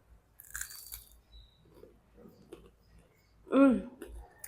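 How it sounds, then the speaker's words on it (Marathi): Crunchy bites into crispy fried homemade cabbage veg Manchurian, with faint chewing, then a louder throaty vocal sound near the end. "ह्याच्यातलं एक मंचुरियन मी तुम्हाला खाऊन दाखवते की किती कुरकुरीत झालेले आहेत"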